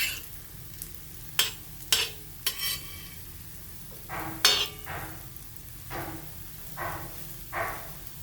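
Crisp potato slices coated in semolina fry in a little oil in a pan while a spatula scrapes and turns them, giving repeated sharp scraping strokes over a faint sizzle, close and quiet.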